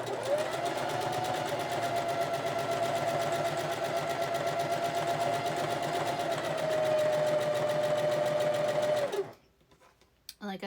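A sewing machine runs steadily at moderate speed while chain stitching pieces of a Christmas quilt block, a close, even whirring rattle that stops abruptly near the end.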